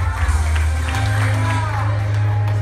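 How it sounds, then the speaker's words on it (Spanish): Applause and cheering at a quinceañera party greet a couple, with a crowd clapping and whooping over loud, deep background music and voices. "Fuerte el aplauso para ellos."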